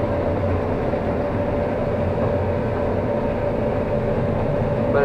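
A combine harvester harvesting corn, heard from inside the cab as a constant, loud mechanical rumble with a steady hum, unbroken for the whole stretch.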